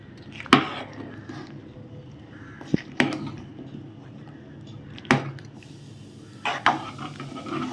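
Rice and jaggery are stirred in a cooking pot for sweet pongal, giving a few sharp spoon knocks against the metal rim at irregular intervals over a low background hum.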